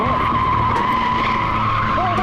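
Drift car tires skid and squeal steadily after a clutch kick on a drifting section, a sustained high screech with engine roar underneath, loud and continuous throughout.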